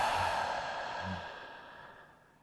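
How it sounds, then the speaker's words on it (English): A single forceful exhaled breath, part of a sharp cutting-breath exercise, close and loud before trailing off. "this is one of the reasons why we practice a cutting breath"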